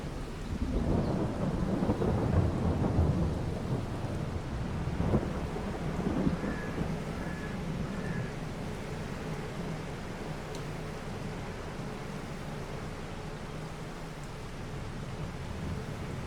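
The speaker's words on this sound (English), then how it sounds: "heavy rain right now" Heavy rain pours steadily in the Farming Simulator 22 game world, with rolls of thunder rumbling early on before the downpour continues as a constant wash of noise.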